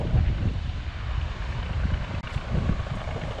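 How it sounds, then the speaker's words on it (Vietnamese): A small fishing boat heading out to sea from the shore runs its engine with a low, continuous drone, partly buried under rushing wind noise. "Em nghe anh nghe tiếng ghe nó chạy."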